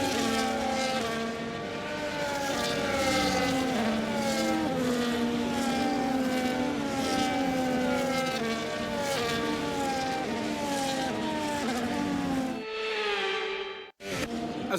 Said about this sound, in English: the formation lap is underway ahead of today's sprint